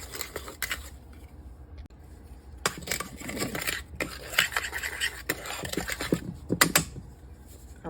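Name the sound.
stirring seasoning in a bowl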